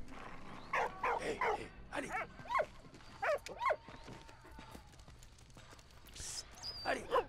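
A dog in the video game Valiant Hearts gives several short barks and yips in bursts over a low game backdrop, with a higher whine near the end.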